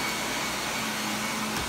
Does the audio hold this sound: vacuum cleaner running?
yes